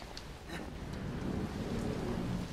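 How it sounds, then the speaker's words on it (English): Steady heavy rain hisses with a low distant rumble of thunder in the horror video game The Evil Within, continuous and fairly loud with no talk. "Escaping the rain."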